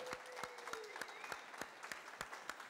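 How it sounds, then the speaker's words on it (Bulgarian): Faint, evenly spaced claps ring out in a steady rhythm for an athlete at a Universal Athlete competition round, with a thin tonal hum running beneath them. "Само аплодисменти за това момче."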